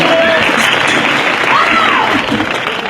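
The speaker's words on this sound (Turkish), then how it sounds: "Kuvvetli alkışlarınız bir kez daha sanatçılarımız için, oyuncularımız için" Theater audience applauding performers after a traditional Turkish Kavuklu and Pişekar comedy show: steady, loud, continuous clapping from a crowd, with some voices mixed in throughout.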